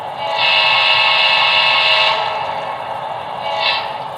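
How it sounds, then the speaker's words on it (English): A diesel horn on a Broadway Limited PRR EMD E7 model locomotive sounds a loud, steady blast of about two seconds, then holds at a lower level with a short swell near the end, alone with no talk. "F2 is the diesel horn."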